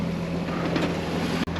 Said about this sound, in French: Bon, on a rallumé le moteur.